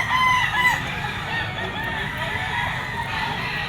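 A full stag rooster for sale at the Grotto pet market crows briefly at the start, then clucks amid a steady market hubbub, close and fairly loud.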